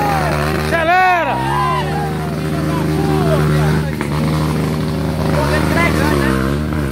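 A trail motorcycle revs hard and strains up a steep slope crossed by roots, its engine rising and falling steadily throughout while voices shout nearby over the loud motor.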